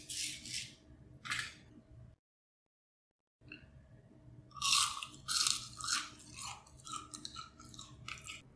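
Crispy homemade French fries bitten and chewed up close, with loud crunches in a couple of bursts, a brief silent gap, then a rapid series of crisp crunching bites.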